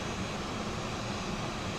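Steady, broadband jet engine roar from an Airbus A320 airliner in the FlightFactor A320 flight simulator, a continuous even rumble and hiss heard alone with no talking.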